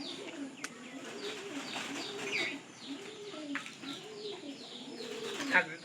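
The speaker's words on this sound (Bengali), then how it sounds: "ডিম তা দেয় এরকম কবুতর আছে" Pigeons coo in a loft where birds sit on eggs, the soft rolling coos repeating steadily at close range, with faint chirps and light rustling in the background.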